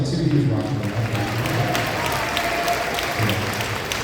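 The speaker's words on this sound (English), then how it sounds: "A round of applause for Dylan, too." An audience applauds a drummer at a live band performance, a sustained wash of clapping with a voice talking over it near the start and end.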